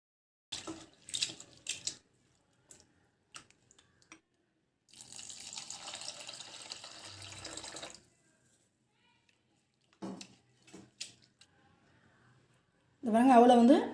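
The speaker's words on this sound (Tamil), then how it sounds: "அவளை நல்லா 2 தண்ணி ஊற்றி கழுவி எடுத்துட்டேன்." Flattened rice (aval) washed in water for payasam: intermittent splashing and swishing in short bursts separated by quiet gaps, then a loud rush of running water at the end.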